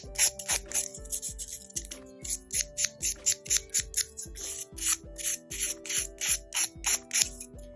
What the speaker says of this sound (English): the reason why I'm buffing the surface area is to kind of get it to be leveled out